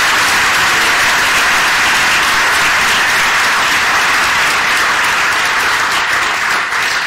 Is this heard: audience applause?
yes